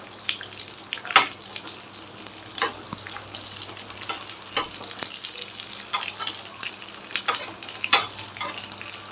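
Raisins fry in ghee in a pan for semiya payasam while being stirred, giving a soft, steady sizzle broken by scraping stirs and light clinks, with no talking.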